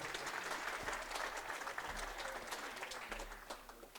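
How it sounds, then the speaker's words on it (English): At the opening ceremony of the EFRA 1/12th track European RC car racing championship, a crowd applauds with a continuous spread of clapping, somewhat distant and fairly quiet, with a few sharper individual claps standing out. "Give them a round of applause."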